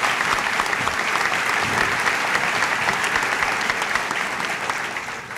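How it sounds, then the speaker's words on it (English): Audience at an alcohol awareness program in a high school gathering, giving steady, dense applause that holds evenly and tapers slightly near the end. "A lot of applause for you."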